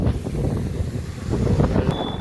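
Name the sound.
strong wind blowing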